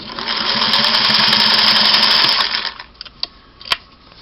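A Singer 503A sewing machine stitches fabric with a fast, loud mechanical whir and needle chatter, then slows and stops, leaving a few separate clicks and clunks.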